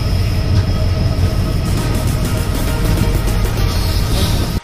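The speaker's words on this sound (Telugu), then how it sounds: "సో ఇది సికింద్రాబాద్ జంక్షన్ రైల్వే స్టేషన్." A train at Secunderabad Junction railway station gives off a steady, loud rumble of rolling wheels and machinery that runs throughout, with no voices.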